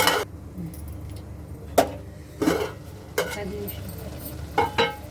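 A spoon stirs Telangana-style mutton curry in a pot, giving intermittent scraping and clinking strokes spaced a second or so apart over a low simmering background.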